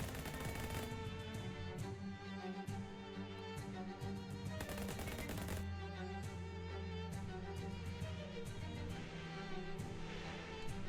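Gunfire in Shadows Over Loathing, a run of sharp repeated shots with a dense, loud backdrop of game music throughout, no talking.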